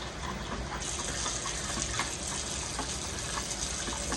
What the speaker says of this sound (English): Start as you put the cold water and you start stirring.